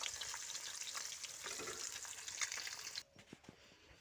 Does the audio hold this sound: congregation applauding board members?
no